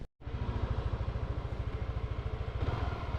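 A motorcycle engine runs with a rapid, even, chugging pulse, close and steady after a brief silent gap at the start, with no talking over it.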